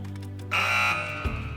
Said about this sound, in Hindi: चलें, बजर्स इनेबल कर रहा हूँ।